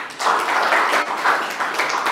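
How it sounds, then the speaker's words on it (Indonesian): Students in a classroom clap together in a dense, steady patter of hand claps that swells and dips over about two seconds, with no talking over it. "tepuk tangan lagi."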